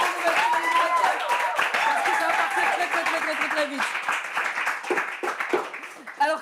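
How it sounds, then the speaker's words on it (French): An audience claps for the contestants in a quiz final. A presenter talks over the steady applause, which thins out toward the end. "On les applaudit."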